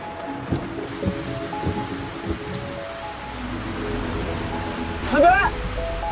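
Steady rain falls as a continuous hiss. Faint voice-like tones sit low in the mix early on, and a brief louder burst comes near the end.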